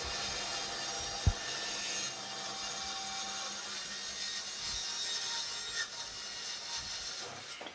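A saw cuts walnut and oak table legs to height in a woodworking shop, producing a continuous bright, hissing cutting noise that holds steady throughout, with one brief knock near the start.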